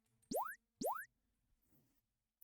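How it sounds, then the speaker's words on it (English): Character jump sound effect in a game under development, two quick rising springy boing tones played back to back, clean and close, followed by faint quiet rustle. "we're able to make him jump and make the sound only when he's actually jumping"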